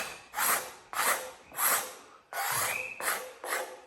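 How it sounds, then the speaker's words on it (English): A scraper works glue off the wood of a guitar neck, giving rhythmic rasping strokes, about seven close scrapes with short pauses between, moderately loud and with no talk. "I'm just scraping until the glue's gone."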